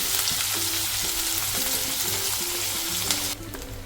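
Dry fish fries in a pan, a loud steady sizzle with a faint rhythmic scraping of a spatula underneath, continuous and close.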